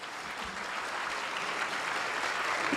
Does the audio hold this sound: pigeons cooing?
no